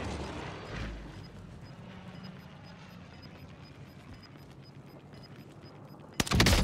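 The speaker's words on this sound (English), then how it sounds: "Enemy precision airstrike. Stay alert." Precision airstrike in Call of Duty Warzone on the Caldera map: low, rumbling battle ambience with a faint repeating beep builds to a sudden, loud, close blast right at the end.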